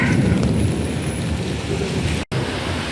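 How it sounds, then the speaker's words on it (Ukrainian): Steady rain pours down in a dense, even hiss, close and continuous, with one very brief dropout near the end. "А, який дощик пустився."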